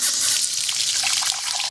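Water gushes from the end of a Camco heated RV water hose in winter, a steady bright hiss and splash like an open tap, close and continuous before cutting off abruptly.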